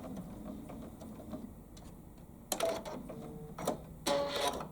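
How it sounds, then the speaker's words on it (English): An embroidery sewing machine stitches a flower petal in fabric; after a quieter start, close mechanical stitching comes in short, rapid bursts separated by brief pauses. "I just lift one of my flower petals, drop my presser foot, and sew it again"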